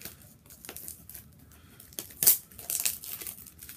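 Plastic shrink wrap being peeled and torn off a Criterion Collection disc package, a series of close crinkles and scrunches with one sharp loud rip partway through, no talking.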